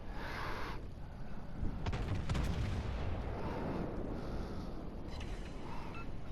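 A battleship salvo from the USS Wisconsin in a naval video game, a heavy roar of big-gun fire that rumbles and rolls on steadily with a crackling mechanical edge.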